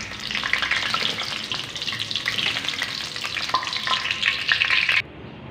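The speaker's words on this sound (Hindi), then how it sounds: "यहाँ पे जी प्याज हमारे फ्राई हो चुके हैं।" Onions fry in hot oil on full heat for a chicken korma, a dense continuous sizzle with stirring scrapes that cuts off abruptly near the end.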